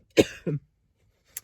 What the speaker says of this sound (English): you don't need to hear me cough